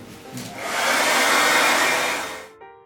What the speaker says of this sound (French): Allez, on sèche le sèche-cheveux.